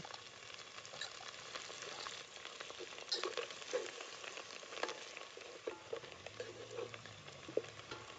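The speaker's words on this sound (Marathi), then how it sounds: "हळद टाकून आता मस्त सगळं तळून घेतलं." Onion, ginger, garlic, coriander and turmeric fry in oil for a mutton curry, giving a quiet, steady sizzle with scattered crackles and pops throughout. No speech.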